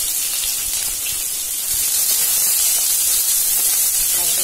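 Sliced onion hits hot oil already holding cinnamon, cloves and mace for semiya biryani, giving a loud, steady, close sizzle and hiss throughout with no pauses.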